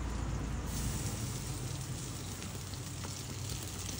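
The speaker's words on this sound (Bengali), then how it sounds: "এগুলো ভেজে নিই তারপরে আবার দেখাচ্ছি তোমাদের" Vegetables for fried rice frying in a pan make a continuous, even sizzle and crackle, a dense hiss that stays level from start to finish.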